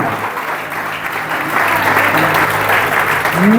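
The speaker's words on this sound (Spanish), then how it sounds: "Dale un aplauso al Señor." A church congregation applauds during a Spanish-language service, steady full-room clapping that swells louder midway and holds, with a faint voice rising above it near the end.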